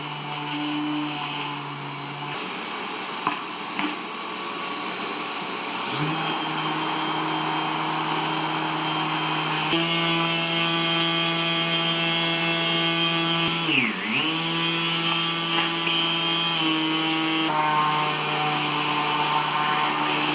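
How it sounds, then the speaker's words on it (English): A Milwaukee M12 cordless sander runs steadily with a Festool dust extractor droning alongside, a loud continuous motor whine whose pitch shifts a few times as the load changes, with no talking. "All right, let's see how this sander performs."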